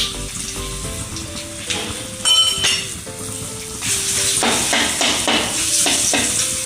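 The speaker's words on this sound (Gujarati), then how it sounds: "તો હવે આપણે લસણવાળી ચટણી એડ કરશું." Garlic chutney goes into a hot pan of oil already holding dried red chilies and turmeric for Kathiawadi khichdi. A few utensil clinks come first, then a loud, bright sizzle bursts up and crackles steadily to the end.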